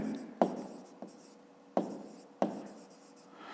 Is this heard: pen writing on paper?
yes